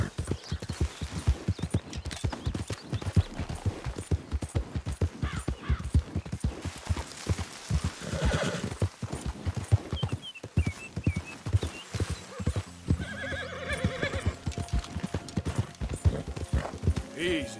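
Horse hooves galloping in Red Dead Redemption II, a rapid, steady clip-clop drumming close by throughout, with a brief whinny and light game sounds over it and some speech in the background.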